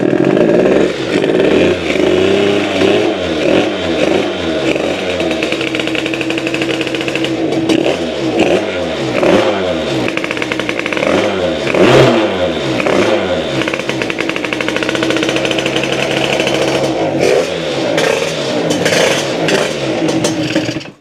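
A Bidalot RSB moped fitted with a 100cc Monaya engine revs hard and loud up close, its rasping two-stroke note climbing and dropping in repeated bursts of acceleration for about twenty seconds, with no talking.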